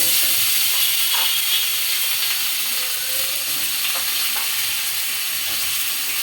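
Drumstick, potato and eggplant pieces are dropped into hot oil with cumin and bay leaf for a Gulsha fish curry, giving a steady, loud, crackling hiss that holds without a break.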